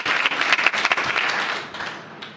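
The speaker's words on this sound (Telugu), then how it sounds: "నమ్మిన వాళ్ళు ఒకసారి చప్పట్లు కొడుతూ దేవుని మహిమపడదామా?" A congregation claps together in praise during a church sermon, a dense, steady wash of many hands at moderate loudness that gradually thins and fades over a couple of seconds, with no talking.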